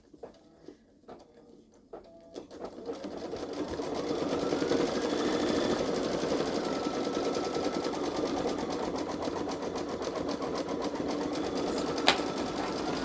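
A Babylock Solaris Vision embroidery machine stitches out bat designs, starting after a few quiet clicks and then running as a steady, fast mechanical hum with a dense needle rhythm, close and continuous, with one sharp click near the end.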